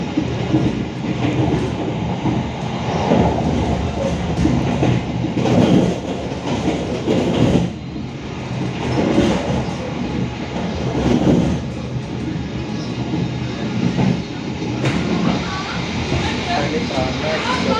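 The Taksaka passenger train runs through Kutoarjo station, heard from on board: a continuous rumble with rhythmic clickety-clack over the rails. A person talks over the sound throughout.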